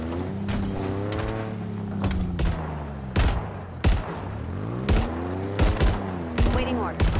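A mounted heavy gun in the video game Halo Infinite fires in repeated loud bursts over a droning vehicle engine, with mechanical clanks between volleys.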